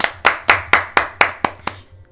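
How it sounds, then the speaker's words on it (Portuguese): Hand clapping on a podcast: about eight sharp, evenly spaced claps, close and loud, from only one or two people, slowing slightly before stopping. "Gente, uma salva de palmas pra nossa patrocinadora."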